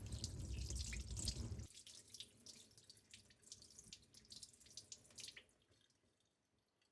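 Tap water running over salted salmon fillets in a kitchen sink to rinse off the salt, a close splashing gush that drops to lighter trickling and dripping before fading out, with no speech.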